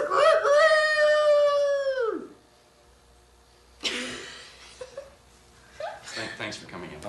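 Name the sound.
actor imitating a rooster crowing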